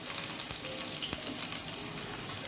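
Onions and tomatoes sautéing in a pan for chicken curry to serve with ragi kali, a steady soft sizzle and crackle throughout with faint stirring clicks and no talk.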